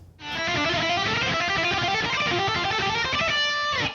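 A fast electric guitar lick, picked in rapid even notes, loud and bright, running continuously for a few seconds without voices.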